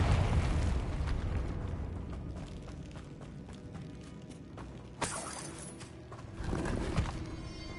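A Confringo spell in Hogwarts Legacy bursts with a sharp crack, followed by a second, heavier blast against a rumbling backdrop of magical combat.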